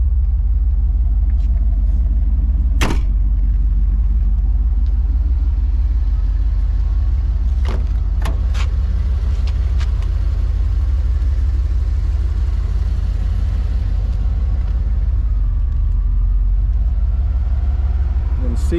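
A 1985 Chevrolet Camaro IROC-Z, one-owner hardtop with 66,000 miles, on a test drive: steady low engine rumble inside the car with a few sharp clicks and knocks, and talking through much of it.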